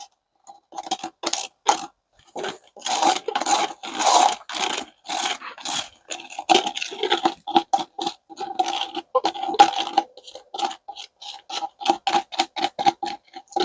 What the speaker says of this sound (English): Try to scrape all this out of there.